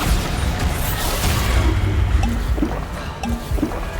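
A Bombarda blasting spell explodes in Hogwarts Legacy, a dense, booming rumble of crashing debris that fills the whole stretch loudly and steadily, with a few sharper impacts near the end.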